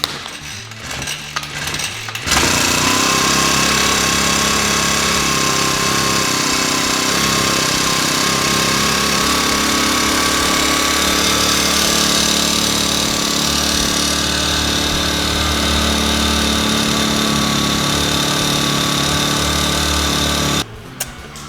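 A gasoline-powered water pump engine used for making salt brine runs steadily and loudly close by, with a constant droning, buzzy tone that starts abruptly and cuts off near the end.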